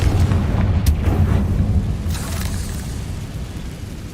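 Confringo fire-blast spell from Hogwarts Legacy erupting in a deep, rumbling explosion that rolls on continuously, with a sharp crack near the start and another flare about halfway through.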